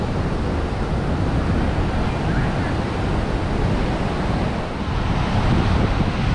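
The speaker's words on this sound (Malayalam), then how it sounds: "കടൽ കുറഞ്ഞെങ്കിലും ചില സമയത്ത് ചില തിരമാലകൾ ഇങ്ങനെ കയറി വരുന്നുണ്ട് കേട്ടോ" Sea waves roll and break on a beach with green water and white foam where anglers fish, making a constant loud roar with wind buffeting the microphone throughout.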